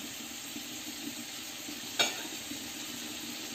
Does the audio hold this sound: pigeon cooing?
no